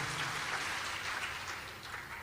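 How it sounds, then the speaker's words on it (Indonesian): A church congregation applauds during a sermon, a steady wash of distant clapping that stays faint and even for a couple of seconds, with no voices on top. "Yang setuju boleh berikan tepuk tangan yang meriah buat Tuhan Yesus."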